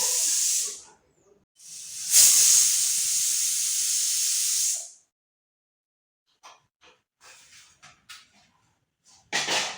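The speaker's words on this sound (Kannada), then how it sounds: "ಕುಕ್ಕರ್ದು ಸಿಟಿ ಆಯಿತು ಫ್ರೆಂಡ್ಸ್." A pressure cooker whistles as it vents steam, two loud sustained hissing blasts close by, the second lasting about three seconds, followed by quieter clattering sounds and a brief final hiss.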